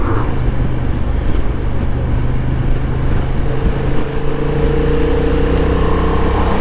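Honda XL750 Transalp motorcycle engine on a test ride, a steady loud drone with a low rumbling hum that rises in pitch about halfway through as the bike accelerates.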